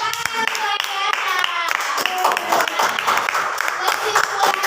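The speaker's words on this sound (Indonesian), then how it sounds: "tepuk tangan luar biasa" Classroom applause after a lesson on series electric circuits, a dense run of many hands clapping fast and unevenly from close by, with voices mixed in underneath.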